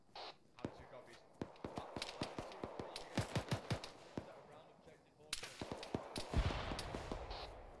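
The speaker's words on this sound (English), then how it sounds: "Appears to be lots of gunshots coming from our front." Distant gunfire rolls in from down a valley during a military field training exercise: a long string of sharp, scattered shots, some in quick bursts, with voices murmuring nearby.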